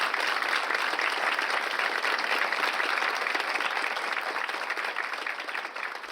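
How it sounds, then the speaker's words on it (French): Sustained applause from a church congregation at a Bible study gathering, a dense, steady wash of many hands clapping at full strength throughout, tapering only slightly at the very end. "Un applaudissement pour notre sœur."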